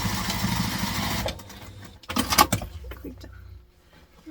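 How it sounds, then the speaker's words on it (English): A sewing machine stitches across elastic on a fabric tote bag, giving a steady, fast whir for just over a second before stopping. Clattering and rustling of fabric and parts being handled follows, with no talking. "so now we're going to sew up this side. So across the elastic."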